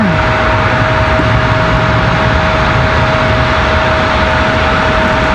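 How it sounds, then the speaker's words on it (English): An American Airlines Boeing 737-800 arriving from Dallas Fort Worth at Raleigh Durham airport roars loudly and continuously at close range, a dense broadband jet rumble with a steady tonal whine. "American 979 from Dallas Fort Worth, our next arrival. This 737 right here."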